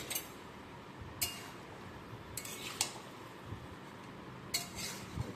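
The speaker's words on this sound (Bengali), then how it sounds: "এবার আমি ঢাকা দিয়ে দেব।" A lid set down on a pan of small tangra fish chorchori cooking with onion and tomato, giving a few sharp metallic clinks over a faint, quiet kitchen background, with no talking.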